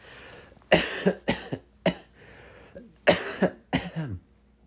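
A run of harsh, wet coughs in short bursts in a shower, several in quick succession with brief pauses between, close to the microphone with no talking.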